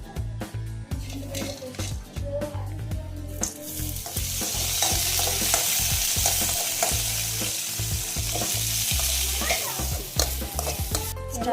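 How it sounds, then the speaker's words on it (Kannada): Onion and spices fry in a pan for paneer pulao, giving a continuous close sizzle with repeated scraping and stirring of a spoon against the pan. The sizzle grows louder and fuller midway through. "ಈ ಥರ ಗೋಲ್ಡನ್ ಫ್ರೈ ಬರೋ ಥರ ಉಟ್ಕೋಬೇಕು"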